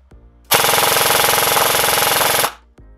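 Airsoft gun fitted with a brushless motor fires a rapid full-auto burst for about two seconds, a loud, dense buzzing rattle of rounds that starts and stops abruptly, with quiet before and after.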